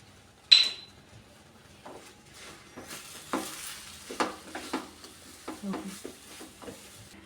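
A spoon stirs semolina in a pan for pineapple kesribath after frying it in ghee. A sharp clink opens the clip, then irregular scraping strokes and soft sizzling follow close by at a low level, with no voices.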